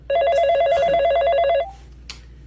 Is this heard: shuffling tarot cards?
no